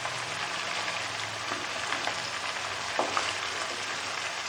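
Mughlai chicken masala with onions fries in a pan, giving a steady, close sizzle with occasional small pops and stirring scrapes.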